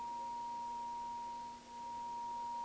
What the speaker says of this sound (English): I've got a 1 kilohertz test tone going to the slate, which you can monitor with the fader